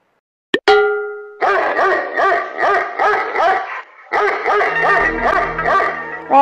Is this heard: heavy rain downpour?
no